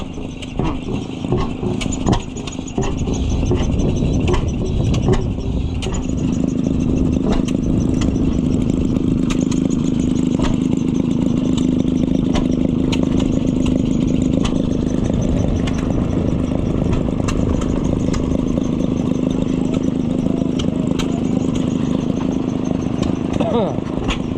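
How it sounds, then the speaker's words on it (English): A big oil field engine runs at an antique machinery show, a steady low chugging drone close by with faint clattering and intermittent voices from people nearby over the top. "Big oil field engine."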